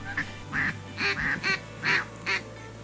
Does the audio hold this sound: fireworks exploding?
no